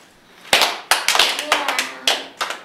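A group of people strikes loud, sharp hand claps in a loose, slightly ragged series, about eight or nine crisp smacks close by with short quiet gaps between them.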